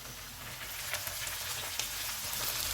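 Minced meat keema frying with onions and ginger-garlic paste in a hot pan, a steady, close sizzle with soft crackles throughout and no talking.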